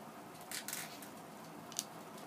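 Scissors cut beading thread for a knotted mixed-bead piece, making one or two quiet, quick snips near the start. The rest is soft room hiss.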